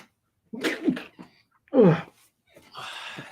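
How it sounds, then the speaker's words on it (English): A single sharp sneeze bursts out between soft breathy sounds and a brief voiced noise, close to the mic. "I'm gonna sneeze"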